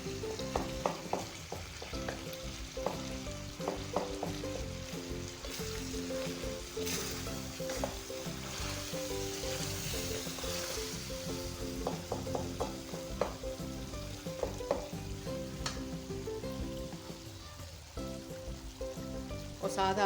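Beef karahi with mashed tomatoes fries in a pan with a continuous close sizzle, while a spatula stirs it with scattered scraping clinks throughout.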